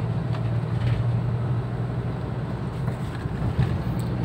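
Daihatsu Xenia 1.0 car engine pulling hard in fifth gear while overtaking, a steady low drone with road and wind noise continuous and loud throughout, no voices.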